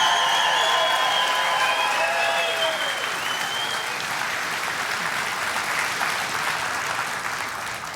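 A crowd at a hospital-team tribute event applauds steadily for the whole stretch, dense clapping at moderate loudness, with sustained musical tones over the first few seconds that fade out.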